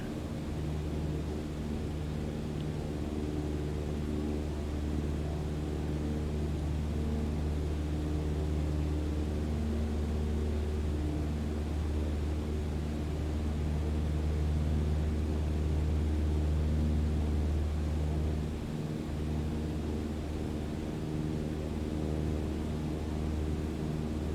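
A Cessna 152 light aircraft's piston engine during its takeoff run on a runway, a steady, loud droning hum heard from inside the cabin that barely varies throughout.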